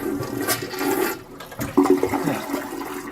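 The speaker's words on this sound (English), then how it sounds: "like we gotta flush the damn toilet here" A toilet flushes nearby with a loud rushing gurgle of water that swells and drains over a few seconds, with no talking.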